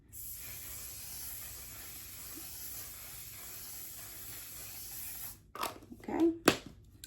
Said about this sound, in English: I'll top it with my One Size On Till Dawn setting spray